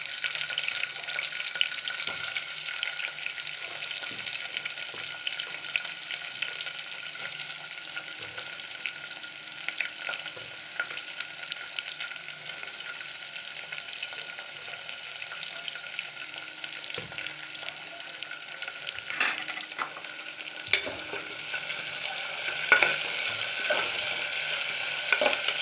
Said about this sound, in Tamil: அதுக்கப்புறம் தாளிக்க வச்சுருக்கிறத போட்டுக்கலாம்.